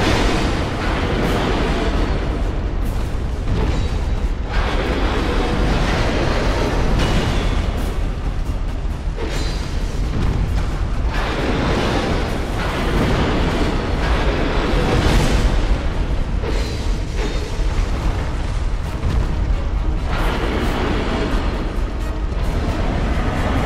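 The Smelter Demon boss in Dark Souls II unleashes its explosion attack, a dense, roaring wall of rumbling blasts and crackling debris that stays loud and continuous throughout.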